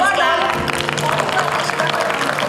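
An audience at an evening theatre event in Jaipur claps steadily throughout, a dense even applause with voices mixed into the crowd.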